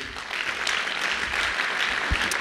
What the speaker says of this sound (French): Je vais juste vous demander d'applaudir les compositeurs et interprètes de ce soir qui sont Baptiste Charpentier, Tatiana Richa